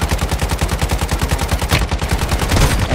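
Rapid automatic gunfire in Call of Duty Warzone on Rebirth Island, a loud, close, evenly spaced stream of shots that continues throughout.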